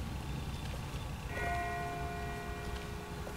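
A church bell rings far off in The Walking Dead video game, a single soft tolling strike whose tone lingers and fades over a quiet, hissy background.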